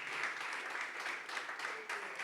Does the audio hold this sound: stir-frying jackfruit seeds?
no